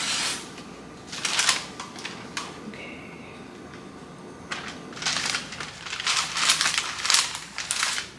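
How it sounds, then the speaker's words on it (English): A knife slices through a sheet of puff pastry in several bursts of crisp, crackly cutting, with quiet pauses between strokes and a longer run of crunchy cuts toward the end. "we're gonna cut a sheet of puff pastry into 4 squares"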